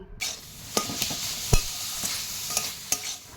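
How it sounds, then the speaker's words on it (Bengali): Cabbage paratha filling being stirred and mixed with spices in a hot pan, with soft sizzling throughout and repeated scraping strokes of a spoon at an irregular pace, close and fairly quiet. "এবার ভালো করে নেড়ে চেড়ে মিশিয়ে নিচ্ছি"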